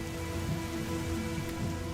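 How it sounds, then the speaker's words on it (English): Heavy rain pours down in the Masai Mara, a dense, even hiss of drops hitting surfaces, loud and constant with no voices. "Some find the cold downpour irritating, but the rain forms the basis for the lush pastures in the Masai Mara Reserve"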